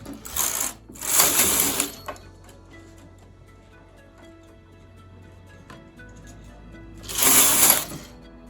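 A knitting machine carriage sweeps across the needle bed in loud, close rattling passes, two quick ones back to back at the start and another after a long quiet stretch of faint ticking.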